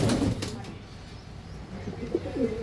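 Pigeons kept for sale give soft, low cooing calls, faint and intermittent against a quiet background, with a brief flutter early on.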